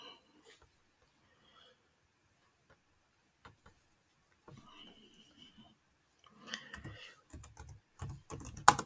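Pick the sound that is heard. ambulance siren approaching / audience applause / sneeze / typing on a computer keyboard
typing on a computer keyboard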